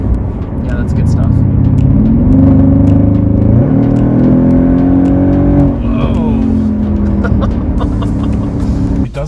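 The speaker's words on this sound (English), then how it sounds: "And the turbo spool right beforehand too." A car engine revs hard close by, loud and sustained, with a turbo spooling up just before; its pitch climbs in repeated sweeping pulls over a steady rumble.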